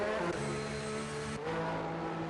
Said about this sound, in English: Little snap here of the Ferrari of Singh trying to get out of the pits.